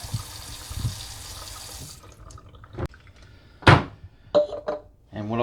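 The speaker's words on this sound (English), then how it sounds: "it will take a little bit for the water to start flowing through your filter" Water runs from a stainless steel faucet water filter for about two seconds, then stops, followed by scattered drips, clunks and splashes in a sink.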